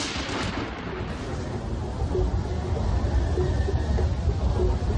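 A heavy rolling rumble of thunder from a lightning storm builds from a sharp crack into a long, loud, low roar that fills the whole stretch, with no voices.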